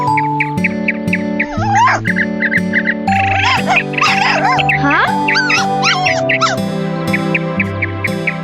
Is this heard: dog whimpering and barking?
yes